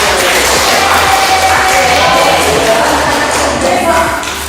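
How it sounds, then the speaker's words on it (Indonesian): A school class claps hands together during a lesson, a loud, busy burst of clapping mixed with excited voices and some cheering, close by and filling the room for several seconds. "sebentar tepuk tangan dulu"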